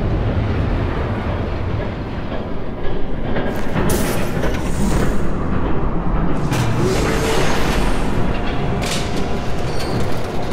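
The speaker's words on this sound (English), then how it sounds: "There's a train coming." A train rumbles steadily close by in a Batman video game, a dense continuous roar with rising metallic screeches and clatter layered on top, no voices.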